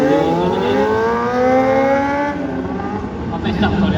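Car engine revving hard during a staggered wheelie stunt at a live stunt show, loud rising and falling harmonic whine close by, with a crowd or commentator talking faintly underneath.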